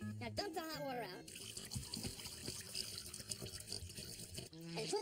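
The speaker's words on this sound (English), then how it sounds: "Now dump the hot water out." Hot water pours and glugs out of a 2-liter plastic bottle into a sink, splashing under a voice talking over it.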